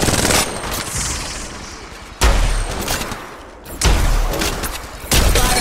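Gunfire in Apex Legends Mobile, three sharp bursts of rapid automatic fire, loud and close, each followed by a trailing rumble before the next.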